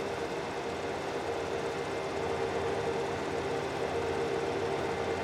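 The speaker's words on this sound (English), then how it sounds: "I would think it's a little large for this tractor, but it's doing so well with the baler here" An electric tractor in Farming Simulator 22 runs a hay baler with a steady, even mechanical drone and hum that holds unbroken and alone.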